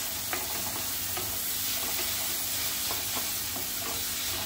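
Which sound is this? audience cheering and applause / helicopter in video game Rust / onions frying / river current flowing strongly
onions frying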